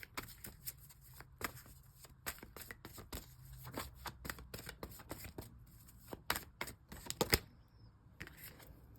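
Tarot cards being shuffled during a Libra money and career reading, a steady run of soft papery riffles and snaps, close and fairly quiet, with a sharper flick of cards near the end and no talking.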